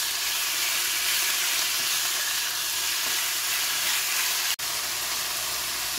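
Chicken for a stir fry frying in a pan produces a steady, loud broadband sizzle that holds throughout, with a brief dropout near the end.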